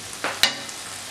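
Ingredients for a potato and egg gratin fry in a pan with a soft, steady sizzle and hiss, broken by a couple of brief stirring clacks near the start.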